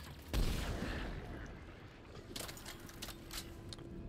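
Heavy gunfire in the sci-fi shooter Mass Effect 3, a sharp plasma shotgun blast followed by scattered distant shots and metallic impacts, fairly quiet overall.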